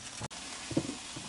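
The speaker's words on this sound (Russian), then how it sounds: "Кладем лук в сковороду и, помешивая, обжариваем до золотистого цвета" Onion frying in melted butter in a pan while being stirred gives a steady close hiss and sizzle, broken by one brief knock partway through.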